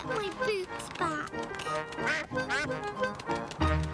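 A cartoon duck quacks repeatedly in a lively children's animated show, the quacks mixed with music and a bright, busy soundtrack.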